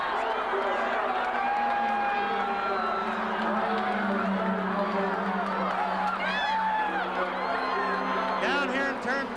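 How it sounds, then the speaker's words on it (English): Big crowd at the Indianapolis 500 roaring and cheering after a crash, a dense sustained wall of voices with scattered whoops and clapping, heard across the grandstands. "You should hear the crowd."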